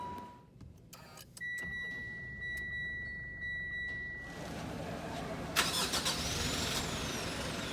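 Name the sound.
Mitsubishi Strada engine push-button start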